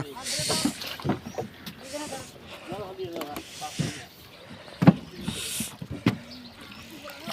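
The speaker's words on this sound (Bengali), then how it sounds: "নৌকা ছেড়ে দিল" A boat pulls away on a cold, fog-covered river near Dhaka. Soft water and hull noises sit beneath people talking close by.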